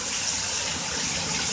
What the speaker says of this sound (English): It's kind of like we got a waterfall.